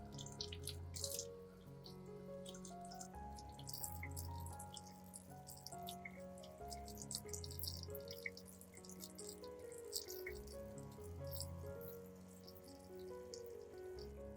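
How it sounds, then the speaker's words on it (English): Running tap water splashes steadily over an orchid plant being rinsed clean of moss and dirt, a continuous close, fairly quiet stream with small drips and gurgles and no voices. "I'll thoroughly rinse the entire orchid under clean running water"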